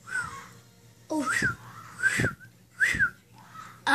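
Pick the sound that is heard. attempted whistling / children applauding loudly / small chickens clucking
attempted whistling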